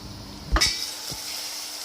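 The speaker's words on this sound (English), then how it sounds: "Sizzling nicely." A steady sizzle of marrow curry cooking in a lidded pot, with a brief clatter of a lid or utensil near the start, then continuous hiss.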